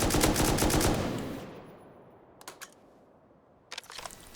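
An M249 machine gun in the game Rust fires a rapid, loud burst that trails off, followed by two short bursts, with no talk.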